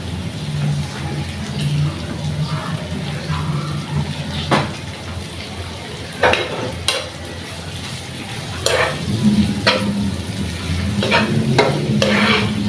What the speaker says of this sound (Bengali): তো আমি তেলের সাথে শুটকিটা কতক্ষণ ভাজবো, ভেজে নিলে ভালো হবে।